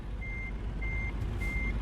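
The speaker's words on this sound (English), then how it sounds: "Let me see if I can turn the truck around." A truck in a video game gives three evenly spaced, steady reversing beeps over a low, constant engine rumble, with no voices.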